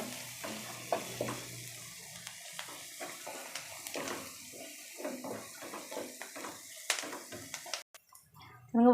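Onions sauté in a pan for a Tamil potato masala. A soft sizzle runs under repeated spatula scrapes and clinks, and a brief burst of water or tap noise comes near the end. No one speaks.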